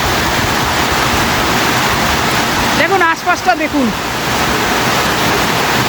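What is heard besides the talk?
heavy rain pouring at Ujjaleswar temple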